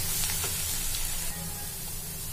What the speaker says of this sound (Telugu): బీట్రూట్ అయితే మంచిగా ఇట్లా ఇట్లా ఇట్లా ఇట్లా కొంచెం వెడల్పుగా అనుకుంటే కొంచెం మంచిగా ఫ్రై అవుతుంది అనమాట